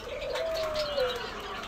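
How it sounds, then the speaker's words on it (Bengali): A male budgerigar in moult calls from a home colony with a soft, rising-and-falling warbling note over faint background chirps, fairly quiet and alone without voices. "এই যে দেখুন কত সুন্দর এটা ডাকাডাকি করতেছে"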